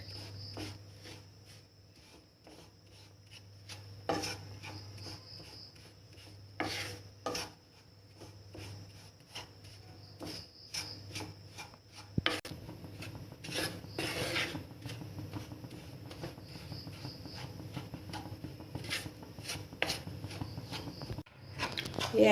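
Rice flour being stirred and dry-roasted in a kadai with lumps broken up, giving a steady scraping, rasping rub of spoon on metal with scattered sharper clinks over a low hum.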